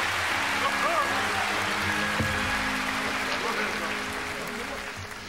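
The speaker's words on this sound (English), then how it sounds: "shall we bless the Lord again with our hand clapping?" A church congregation claps together in a broad, dense wash of applause that fades gradually toward the end, with no clear talk over it.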